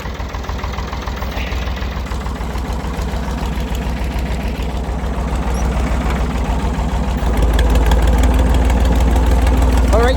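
A tractor engine idling in neutral during firewood hauling in Nova Scotia, a loud, close, steady diesel throb with rhythmic knocking that swells slightly toward the end.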